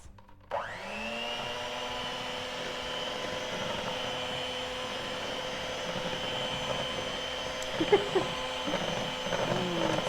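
An electric mixer starts abruptly and whirs steadily through almond poppy seed muffin batter, a close, continuous motor drone with a few faint clinks against the bowl partway through.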